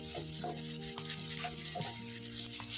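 Dried red chilli, green chilli and bay leaf frying in hot oil give a steady, soft sizzle and crackle throughout, with a low electrical hum underneath and no voices.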